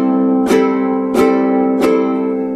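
Three even downward strums on a ukulele, played with the fingernails, each with a bright, crisp attack, the chord ringing on steadily between them.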